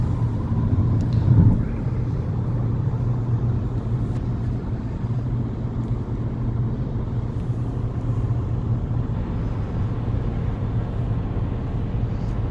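Inside a 2019 Nissan Altima on the move, a low, steady road and engine rumble fills the cabin, muted and even throughout, with a brief louder bump near the start and no talking.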